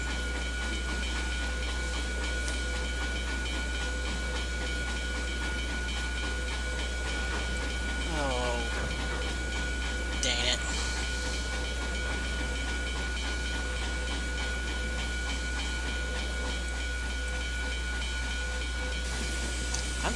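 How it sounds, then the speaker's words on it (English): A Steamtown X10a 4-6-4T steam tank locomotive in the Trainz game, running with a constant low rumble and hiss, a brief rising whistle-like tone and a short sharp burst midway, no voices. "This train's not even supposed to be going up this summit."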